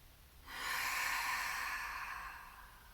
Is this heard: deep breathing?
yes